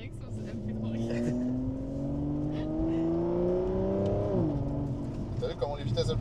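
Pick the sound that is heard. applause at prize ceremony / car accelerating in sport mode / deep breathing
car accelerating in sport mode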